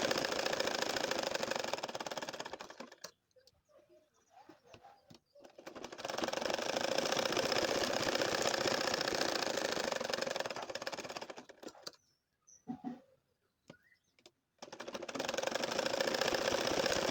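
Sewing machine stitching slowly along marked lines on a doubled layer of fabric for a snail-pattern nakshi kantha quilt, its steady mechanical whir running in long bursts broken by short pauses with faint handling noises.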